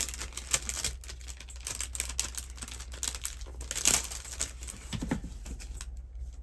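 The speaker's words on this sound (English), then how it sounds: "They're still wrapped up in the cellophane, so I have to unwrap them." Cellophane wrapping being pulled off packaged stamp samples makes close, continuous crinkling and crackling with sharp rustles and small tearing bursts, and no one speaks.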